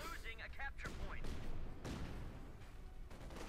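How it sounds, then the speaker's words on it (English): Assault rifle fire from Volksgrenadier Sturmgewehrs and Obersoldaten in a Company of Heroes 2 battle, a steady rattle of gunfire running through the whole moment beneath a talking voice. "there's the Obersoldaten and the Volksgrenadier Sturmgewehrs rattling off bullets"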